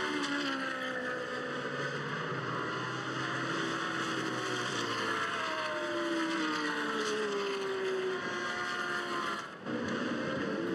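GT race cars, Audis and Lamborghinis among them, battling for position on the Zhuhai circuit in China during a GT Asia Series round, giving a steady loud engine drone with rising and falling tones as cars pass, with no talk.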